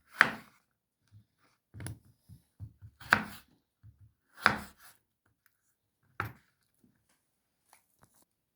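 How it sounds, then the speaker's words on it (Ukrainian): A knife chops a small bunch of dill and parsley on a board for a cucumber salad, a few sharp close thuds spaced apart with softer taps between them. "Невеликий пучечок крупу і невеликий пучечок петрушки я також нарізую отак,"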